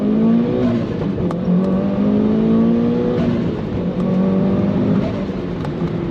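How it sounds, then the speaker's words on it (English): A loud Audi RS 3 or Mitsubishi Evo 8 MR engine revs hard up close as the car launches in first gear, its pitch climbing and falling through the gear with a constant roar. "So let's give it a wee launch here just to see how we are."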